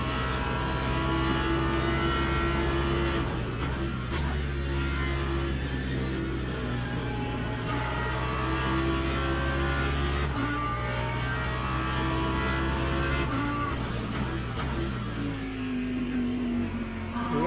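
LMGT3 race cars at Sebring in Le Mans Ultimate, engines droning and rising in pitch as they accelerate, sustained and fairly loud, with throttle blips and revs layered together.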